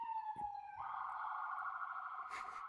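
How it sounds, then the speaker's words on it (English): An emergency vehicle siren out on the city streets, wailing in a sustained rising and falling tone. It sounds somewhat distant and faint, with a brief noisy burst near the end and no talking. "The siren's distracting me, so it's getting annoying."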